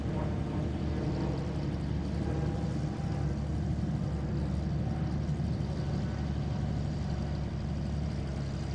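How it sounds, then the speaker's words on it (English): Aircraft engine spooling up at Boeing Field, a steady broadband roar and low rumble holding evenly loud throughout with no talking. "that certainly sounds like they started an engine"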